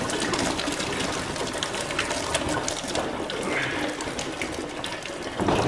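Coolant pours out of the lowest radiator pipe of a flood-damaged 2018 Audi RS3 that has no drain point, making a steady, close splashing rush of liquid throughout.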